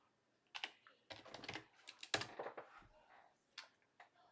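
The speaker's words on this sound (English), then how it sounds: "If you type in health," Typing on a computer keyboard, with rapid clusters of close, crisp key clicks coming in short bursts and brief pauses and no talking.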